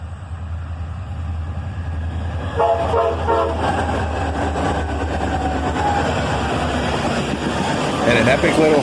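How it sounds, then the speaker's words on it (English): Locomotives lead a covered hopper train southbound, and a loud multi-chime horn sounds in short blasts partway through, over the steady rumble and clatter of the passing train. "And an epic little horn show there"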